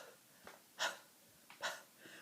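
Two heavy breaths while walking along in cold, icy sleet, each a short breathy burst, fairly close and quiet, with no talking.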